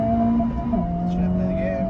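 A car engine in a racing game pulls hard from first gear, its steady droning tone climbing in pitch, dropping at a shift, then rising again, loud and close with talk over it.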